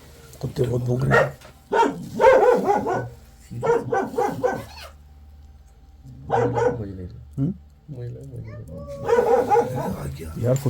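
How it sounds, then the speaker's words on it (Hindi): Dogs bark at night in a jungle near Jim Corbett National Park, repeated bursts of close barking mixed with people talking. "कुत्ते बहुत भौंक रहे हैं।"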